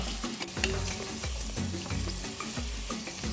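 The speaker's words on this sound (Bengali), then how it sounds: "প্রথমে আলুগুলোকে ভেজে নিচ্ছি।" Potato pieces sizzle and crackle in hot oil while a utensil scrapes and stirs the pan in a regular rhythm, close by with no talking.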